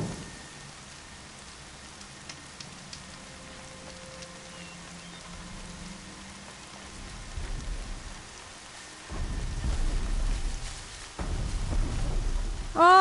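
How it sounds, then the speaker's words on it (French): Steady rain falls in the video game Horizon Zero Dawn, a soft constant hiss that swells later as low thunder rumbles roll in twice near the end. "Mais il pleut sans arrêt dans le jeu."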